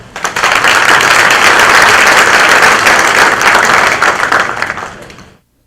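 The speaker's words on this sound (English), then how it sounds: "Give him a round of applause." Loud, dense round of applause from a seminar audience at Fort Benning welcoming the next speaker, swelling quickly, holding steady for several seconds, then fading out abruptly.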